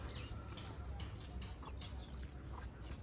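Village hens cluck in short, repeated bursts against a loud, continuous background noise, heard close by.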